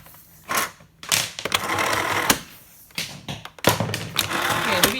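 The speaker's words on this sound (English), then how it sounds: "Yeah, the rewind still works." A Miele S251i vacuum cleaner's cable rewinding, close and fairly loud, in bursts of whirring, rattling and knocking as the cord is pulled in, with a few sharp thuds between.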